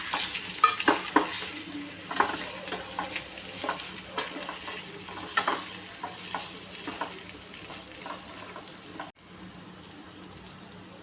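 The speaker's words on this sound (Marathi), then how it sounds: "आता हे बटाटे आहेत, आपण याच्यामध्ये परतून घेऊया." Potatoes fry in a pan with red chilli powder and garam masala, giving a close, steady sizzle broken by repeated scraping stir strokes. The sizzle drops off abruptly near the end.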